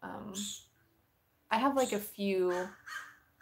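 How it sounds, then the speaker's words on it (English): Crow cawing outside in a few harsh, loud calls, heard between bursts of someone talking nearby. "there's a crow outside."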